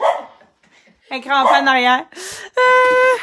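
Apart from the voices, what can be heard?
dog barking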